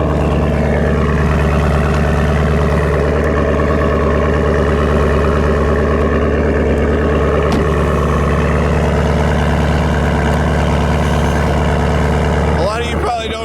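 A car engine idles after a cold start in Canadian winter, a loud, steady, close rumble with a constant hum running the whole time and a short clatter near the end.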